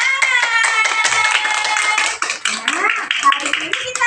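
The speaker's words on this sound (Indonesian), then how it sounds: "Tepuk tangan" Young children in an Indonesian classroom clap their hands together in a quick, loud patter, mixed with their high voices and the teacher's talk throughout.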